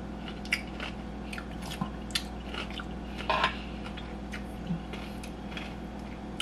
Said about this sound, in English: eat cucumbers cut up, because it give you that like chip,